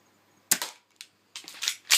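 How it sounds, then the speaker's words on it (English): A silenced airsoft gas blowback pistol fires BBs at a foam-filled target: several sharp, close snaps and impacts, one at a time and then a quick cluster of three, with near silence between them. "The sound of the BB hitting the target is much noisier than the actual firing of the pistol."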